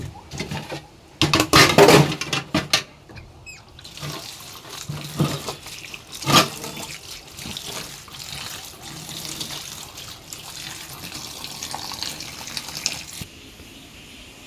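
Plates and dishes washed by hand in a kitchen sink under running tap water, with loud clattering bursts early on, then a steady splash and rinse of flowing water.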